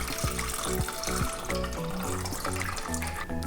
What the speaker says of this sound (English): I need any bowl, and I pour the water here